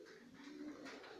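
Quails in a polycarbonate coop give a brief, faint, low cooing call lasting about a second, heard close by with nothing else around it.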